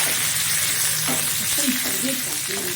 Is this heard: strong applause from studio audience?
no